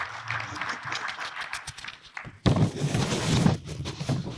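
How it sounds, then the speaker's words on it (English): Audience applause at a book launch in Brusubi, Gambia, a burst of many hands clapping that swells suddenly after scattered taps and murmuring, steady for about a second before tapering. "Can we give him a round of applause?"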